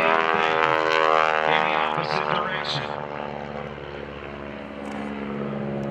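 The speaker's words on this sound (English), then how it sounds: "Now watch John do the classic Cuban 8. Watch him roll the airplane upright." Stearman biplane radial engine droning steadily through an aerobatic Cuban 8 at an airshow, loud and continuous with shifting pitch as the aircraft rolls and slows across the top, with crowd or announcer sound mixed in.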